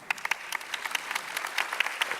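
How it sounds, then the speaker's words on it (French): Audience applause at a 2014 general assembly, dense brisk clapping from a room of people, even and sustained for a couple of seconds. "on peut vous applaudir"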